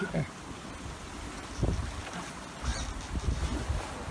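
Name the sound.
wind and swell at sea aboard a sailboat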